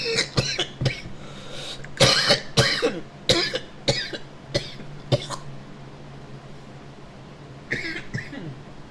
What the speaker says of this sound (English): Ooh, vape cough.